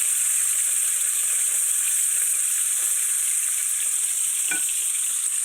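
Bacon fries in a pan on a stovetop with a steady, loud hiss of bubbling grease throughout, joined by a brief clink near the end, no voices.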